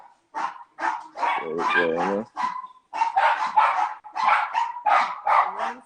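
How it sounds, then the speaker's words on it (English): Several pet dogs bark in rapid, excited bursts close by, with yips and a whimpering whine mixed in, while someone speaks briefly over the commotion. "They see other dogs and they go crazy."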